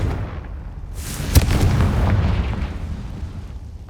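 A Confringo fire spell blasts in Hogwarts Legacy, a sharp explosive crack followed by a booming, rumbling burst that rolls out and slowly fades, loud and close with no voices.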